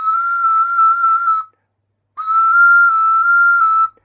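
An ocarina plays a clear, pure, sustained high tone that wavers subtly between two neighbouring notes, mi and fa, in two long phrases separated by a short pause, close and loud with no talk.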